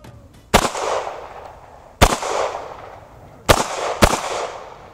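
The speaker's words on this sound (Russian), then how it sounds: "Предстоит стрельба серией по 2 выстрела." Pistol shots in a practical shooting drill ring out loud and sharp: four cracks, two single shots followed by a quick pair, each trailing off in a brief echoing decay.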